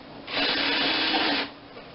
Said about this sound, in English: Let's pop a couple of screws in.